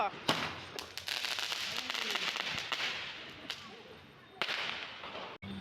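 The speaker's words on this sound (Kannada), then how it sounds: "ಮಕ್ಕಳಿಗೆ ಪಟಾಕಿ ಹೊಡ್ಸೋಣ ಅಂಥೇಳಿ ಹೊರಗಡೆ ಹೋದ್ವಿ" Firecrackers set off outdoors for children during an Ayudha Pooja celebration, several sharp cracking bursts spread irregularly, fairly distant and moderate, with voices talking in the background.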